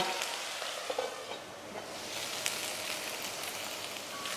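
Potatoes cook in a covered pan over a medium gas flame, giving a steady, moderately loud frying sizzle with a few faint clinks, heard alone.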